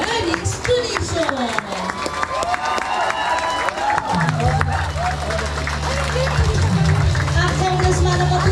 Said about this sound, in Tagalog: ating salubungin ng isang malakas na palakpakan na may kasamang hiyawan